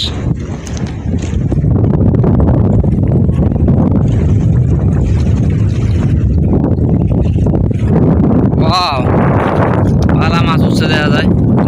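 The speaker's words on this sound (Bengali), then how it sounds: "এত বাতাস" Strong wind buffets the microphone in an open village spot near water where fishing nets are set, a loud continuous roar with gusts, while people talk over it.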